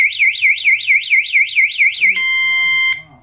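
A loud, piercing electronic bike alarm, an Antusi Cicada A6, wails in rapid rising-and-falling pulses, then switches to a steady tone before stopping abruptly.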